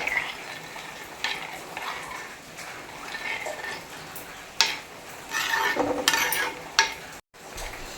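Rambutan pulissery being stirred in a pan after tempering is poured in: a soft sizzle with intermittent scraping and clinks of a spoon against metal, moderately close, in short uneven bursts.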